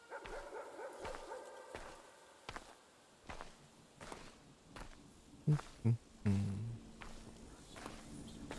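Footsteps pad along, then a dog barks a few times in a video game, short close yips over faint background sound.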